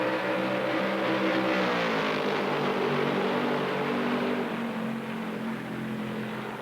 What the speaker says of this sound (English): Petty, Charlie Glotzback, Leroy Yarborough pacing the Southern 500 at better than 140 miles an hour.